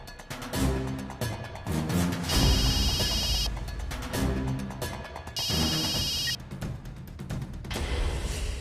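A phone rings in repeated bursts, electronic trills cutting through music and background noise.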